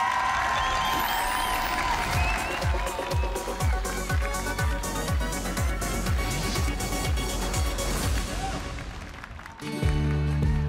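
Audience at Lilla Melodifestivalen, a televised children's song contest, applauding and cheering as a loud crowd while a rhythmic musical beat pounds beneath, with the music shifting near the end.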